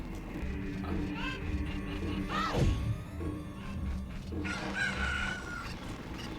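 Chickens in Ocarina of Time cluck and crow, with one rising-and-falling crow standing out amid scattered clucks over steady game background sound, no talking.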